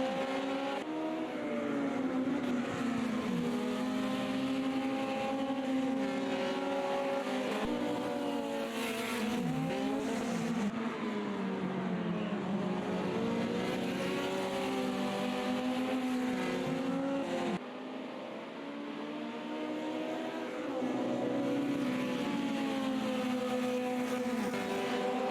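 Formula Junior race cars battle closely for the lead, engines roaring continuously and loud with shifting revs and pitch sweeps as the pack passes, a brief dip near the end before the engine noise returns.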